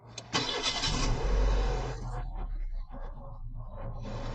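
Renault Scenic II automatic being started, a quiet engine catching and settling into a steady idle inside the car, with faint clicks afterward.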